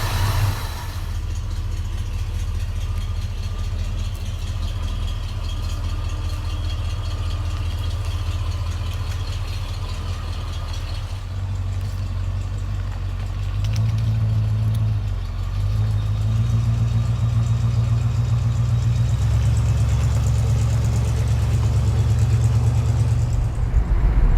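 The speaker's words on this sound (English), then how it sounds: "Your Grand Wagoneer is going, so you've got to be happy." A Jeep Grand Wagoneer engine idles steadily close by, a deep continuous rumble that rises slightly in pitch and intensity partway through as it settles into a fuller running note, with no voices.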